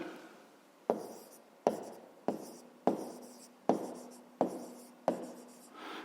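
Pen or chalk strokes while writing out a math exercise: seven or eight sharp taps, each trailing into a short scratchy stroke, at a steady pace, close and fairly clear with no talk.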